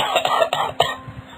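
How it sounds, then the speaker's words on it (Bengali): A cartoon character lets out a run of coughs, about four harsh bursts in quick succession, close and fairly loud, then trailing off into a quiet wheeze. "কতদিন ধরে এই কাশি রয়ে গেছে আর কমছেই না"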